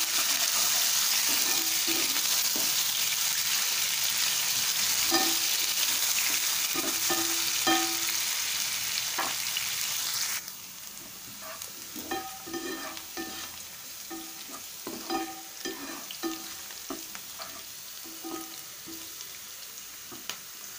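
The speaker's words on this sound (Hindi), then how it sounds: "तेल गरम हो गया है, प्याज डाल देंगे हम इसमें। हम इसको अच्छे से भूनेंगे।" Onions frying in hot oil in a pan for a gawar ki phalli dish, a dense hiss that drops and softens halfway through, with scattered stirring clinks and scrapes and no voices.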